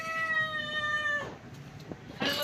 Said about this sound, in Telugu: హన్నుగాడు మ్యావ్ మ్యావ్ అంటుంటే అబ్బో చూడండి